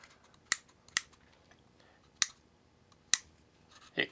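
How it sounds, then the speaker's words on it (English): A Parkside cordless rotary tool's speed switch gives five sharp, crisp clicks at uneven intervals, close and isolated in a quiet room. "it clicks into different speeds"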